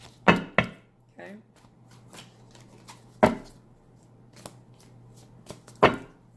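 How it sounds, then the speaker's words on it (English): Tarot cards being shuffled and cut by hand: a few sharp riffling bursts and soft slaps spaced across the moment, close and fairly quiet over a low steady hum. "One more shuffle."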